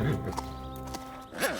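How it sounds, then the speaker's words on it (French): Cartoon horses on a farm, heard as a rising and falling whinny at the start and another near the end, with soft clip-clopping of hooves between them, loud and close, with no talk. "Scoop joue avec les chevaux."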